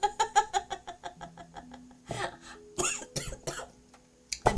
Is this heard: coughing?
yes